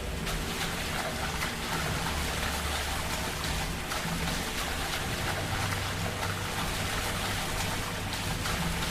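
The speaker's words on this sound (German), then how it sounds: "Ein Wasserfall." A steady, dense rush of falling water from a waterfall in the video game Magrunner: Dark Pulse carries on unbroken and fairly loud throughout, with no voices over it.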